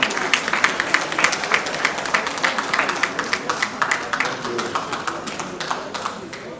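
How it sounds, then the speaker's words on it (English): A crowd applauds for Senator Godswill Akpabio at an evening event with the Vice President, dense clapping with distinct sharp hand claps standing out near the microphone, continuous and lively throughout. "Round of applause for him."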